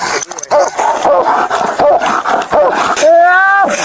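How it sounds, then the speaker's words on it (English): Police dog Rico barks, growls and whimpers in close, agitated bursts during an arrest, with a loud drawn-out whine near the end and tense voices mixed in. "Please, get the dog off me."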